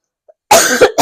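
A woman gives a short burst of close, loud coughs, two or three rough hacks after a moment of silence.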